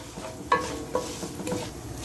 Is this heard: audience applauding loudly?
no